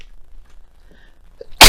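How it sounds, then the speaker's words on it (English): A single sharp sneeze bursts out at the very end, loud and close, after a quiet stretch with only faint background murmur. "Excuse me, I just felt that sneeze come on."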